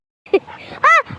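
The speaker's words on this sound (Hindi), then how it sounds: "टॉम एंड जेरी जो है आरती के 2 कुत्ते हैं, कुत्ता और कुतिया।" A pet dog makes short, close whimpering yips in a home. The sharp cries come in two bursts separated by a quieter murmur, with faint background sounds between them.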